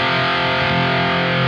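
Electric guitar played through a Zuta distortion pedal at its highest gain setting: one thick, saturated sustained chord, loud and buzzing, held steadily for over a second before cutting off abruptly.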